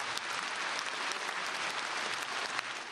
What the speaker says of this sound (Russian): Этому аплодируют стоя.